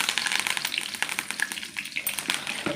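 Fish sizzles and crackles in hot oil with curry leaves in a pan, a bright, busy spitting sound with irregular bursts, close and fairly loud.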